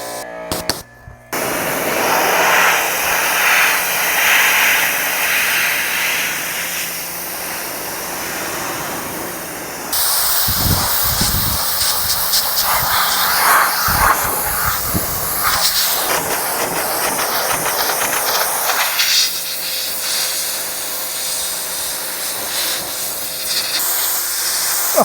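Pressure-washer spray blasting a dirt-caked off-road vehicle on a dirt road, a steady hissing rush that lasts throughout, breaking off briefly near the start and then resuming with rougher, sputtering bursts as the stream hits different surfaces.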